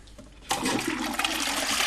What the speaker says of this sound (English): The water goes down the pipe, into the loo, and flushes it out.